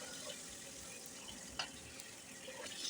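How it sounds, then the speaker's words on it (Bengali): Hilsa fish pieces fry in a pan with a steady, close sizzle and crackle, joined by a few brief clinks and a louder tap near the middle. "ওই পাশটা একটু কাঁচা ছিল, তা ওই পাশটাও আমি ভাজতে দিলাম।"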